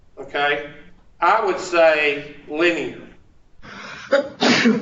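A single sharp sneeze bursts out near the end, following someone talking in a classroom-style setting.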